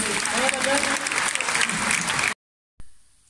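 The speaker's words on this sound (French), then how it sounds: "On peut applaudir Adam, s'il vous plaît." An audience at a show claps for Adam, a dense burst of applause lasting about two seconds that cuts off abruptly, followed by brief quiet and then a faint unrelated sound.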